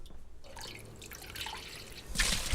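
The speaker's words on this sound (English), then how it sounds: "Pour it in here, Rose." Water is poured from a carried container, splashing and trickling in short bursts that build to a louder gush near the end, with no talking.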